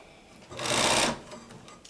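A sewing machine stitches a blouse's back neck facing to its front neck facing in a short, steady whirring run of under a second, close and clear against a quiet room.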